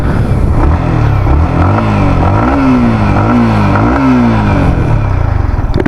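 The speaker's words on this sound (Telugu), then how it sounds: "exhaust note," Yamaha XSR 155 motorcycle exhaust, heard up close and loud, with the engine revved repeatedly in rising and falling throttle blips over a steady idle.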